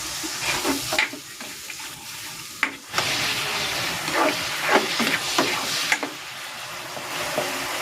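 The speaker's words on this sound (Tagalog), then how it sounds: "Lalagay na ako ng konting tubig." Water pours into a hot pan of vegetables, hissing and sizzling, with stirring and scraping sounds close by.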